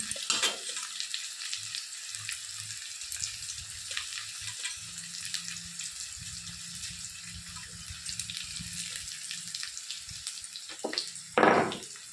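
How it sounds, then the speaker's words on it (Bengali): Onion pieces frying in hot boiling oil make a bright, continuous sizzle, with low stirring scrapes underneath and a sharper clatter near the end; no one speaks. "সবসময় গরম ফুটন্ত তেলেই পেঁয়াজ দেবেন"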